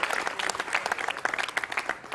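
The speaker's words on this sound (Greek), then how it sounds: "Το θερμό σας χειροκρότημα" A studio audience gives warm, steady applause for a guest on a Greek Epiphany holiday TV programme: dense, close clapping that fills the whole stretch with no talk over it.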